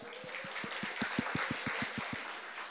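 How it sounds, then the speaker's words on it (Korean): A church congregation applauds together in a steady, even rhythm, about a dozen claps in quick succession over a bed of crowd noise, then fading into general applause. "우리 박수 좀 할까요?"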